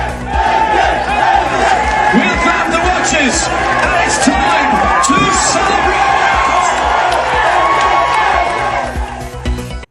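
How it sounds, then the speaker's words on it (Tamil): Fans at a car racing prize ceremony for actor Ajith Kumar's team loudly cheer and chant "AK AK", a dense, sustained crowd roar with shouts throughout. "பரிசளிப்பு விழாவில் ஏகே ஏகே என ரசிகர்கள் ஆரவாரம்"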